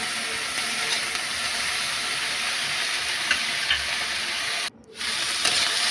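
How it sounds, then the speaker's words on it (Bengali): Eggplant fries in a little oil, making a steady, close hissing sizzle with a few faint stirring scrapes and one brief dropout near the end. "বেগুন দিয়ে নাড়ছি ভালো করে। হালকা তেল দিয়ে নাড়ছি"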